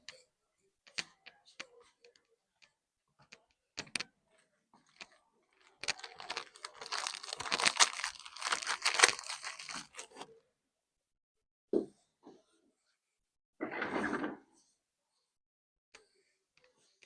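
Writing on a board being erased, with a few seconds of rapid scratchy rubbing, a short pause, then one more brief wipe, amid scattered taps and clicks in a quiet room.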